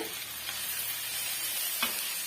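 Pirandai stirred with masala in a hot pan for chutney gives a continuous close sizzle and hiss, with a couple of soft spatula scrapes and no voices.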